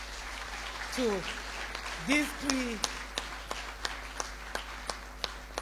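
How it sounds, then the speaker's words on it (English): At a Nigerian Air Force award ceremony, an audience applauds three female officers with a run of distinct, evenly spaced hand claps that carry on under a speaking voice. "Please, a big round of applause"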